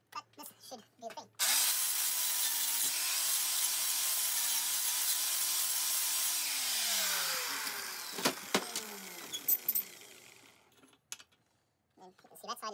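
A used flat disc on an angle grinder grinds old weld off a Canta LX engine mount, a loud continuous whine lasting about nine seconds then winding down, with brief talk before and after.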